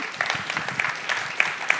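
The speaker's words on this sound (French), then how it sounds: "On peut vous applaudir." Audience applause fills a room at a renewable energy forum, a steady patter of many hands clapping with a few sharper individual claps standing out, moderately close.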